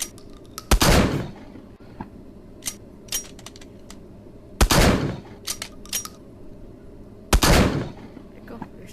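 Shotgun blasts at a virtual-reality shooting range game, three loud booming shots spaced a few seconds apart, each followed by several sharp smaller clicks and clacks of handling between them.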